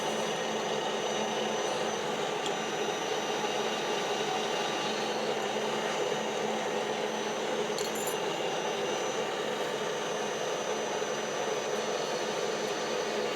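A Jones & Shipman 540 surface grinder takes a light final pass across a metal hub, giving a steady, even whirring hiss with faint metallic ticks, continuous and fairly close, with no talking.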